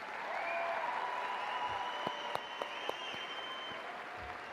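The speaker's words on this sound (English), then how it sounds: "let's give our top 10 students a round of applause" A high school graduation audience applauds its top 10 students, a steady wash of clapping from a large crowd heard at a distance in a big hall, with a few sharper individual claps near the end.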